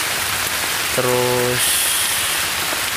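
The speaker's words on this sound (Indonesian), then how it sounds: "Hujan soalnya, sore ini hujan." Steady rain falls on an afternoon fishing spot, a continuous broadband wash of drops heard close and even throughout, with a brief spoken word partway through.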